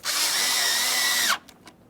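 A power screwdriver drives a glove box mounting screw in a 2013-2020 Ford Fusion: one close, loud, steady whine that rises slightly and stops abruptly after about a second, followed by faint clicks.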